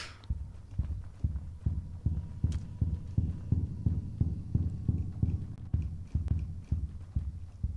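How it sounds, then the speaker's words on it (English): A tense heartbeat in a Roblox game, a steady low double-thump pulse repeating about twice a second, loud and alone throughout. "That heartbeat is very intense."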